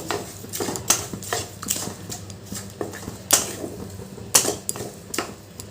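A spoon clinks and scrapes against a pot while sugar is stirred into a milk and pumpkin mixture, a quick irregular run of light metallic taps with a few sharper knocks, close and fairly quiet.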